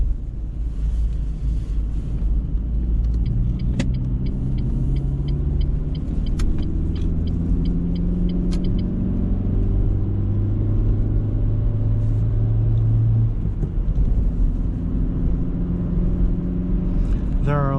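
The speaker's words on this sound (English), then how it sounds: "The car runs really nice." A car engine runs smoothly during a night drive, a steady low rumble with road and wind noise, gear-like tonal rises and falls, and a voice speaking over it.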